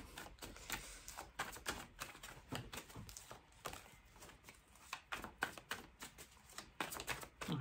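Tarot cards being shuffled by hand, a close, dense run of crisp riffling and flicking bursts that repeats in quick uneven waves with no talk.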